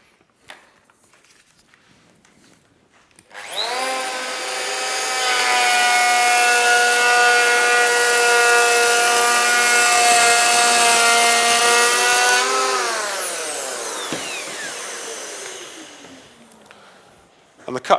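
Festool EHL65EQ one-handed electric planer taking a 2mm-deep cut in wood: the motor spins up with a loud whining harmonic tone, holds steady through the cut, then winds down with a falling pitch as it coasts to a stop.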